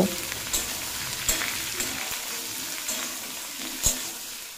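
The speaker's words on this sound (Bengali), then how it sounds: "এই সবজিগুলো দিয়ে আট থেকে দশ মিনিট মতো মিডিয়াম ফ্লেমে রান্না করে নেব" Ridge gourd pieces frying with black cumin seeds over medium flame, a steady close sizzle broken by several sharp clinks of a spatula stirring the pan, no voices.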